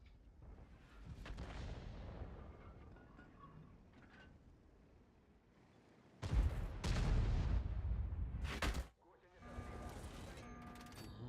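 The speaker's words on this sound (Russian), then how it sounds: "Еще арта накидывает." Artillery shells land in a tank video game, heavy booming impacts and rumbling blasts that swell loudly midway, with quieter battle noise and a voice talking around them.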